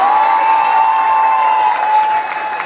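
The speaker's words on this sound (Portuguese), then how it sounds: "Vamos aplaudir nossa noivinha." A wedding audience applauds the bride in steady, dense clapping that fills the room, with a sustained musical tone underneath and the clapping tapering slightly at the end.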